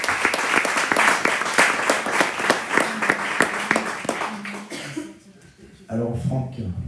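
Audience applause at a community gathering in Massiac, dense steady clapping for about five seconds that then thins out and stops, followed by nearby murmuring voices.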